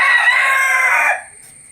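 A rooster crows loudly and close by in one long, strained call that cuts off abruptly, leaving quiet behind it.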